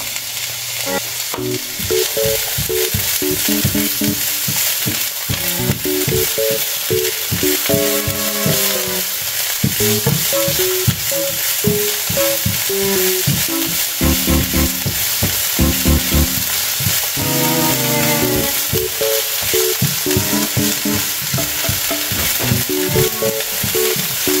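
A small onion sizzles and sputters in hot oil in a pan as it is sautéed for bitter gourd with shrimp, with steady loud frying crackle and intermittent stirring clatter throughout.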